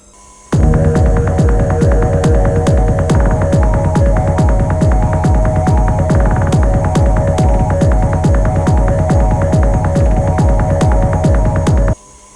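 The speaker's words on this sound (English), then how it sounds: "Now for the last stage, we're going to add this to an electric whisk." An electric whisk whips eggs and sugar, its motor starting abruptly into a loud, even hum with rapid rhythmic throbbing, running steadily before cutting off sharply.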